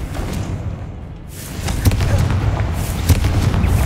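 Confringo explosive spell blasts cast in Hogwarts Legacy while destroying spider egg sacs: a broad rumbling roar swells, then sharp booming impacts hit at irregular moments over continuous crackling fire-like noise, loud and close, with no talk.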